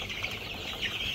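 Young chickens, around twenty days old, cluck softly on a poultry farm in a brief, faint burst of fowl calls.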